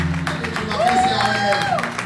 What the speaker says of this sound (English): Let's clap for him for the great work.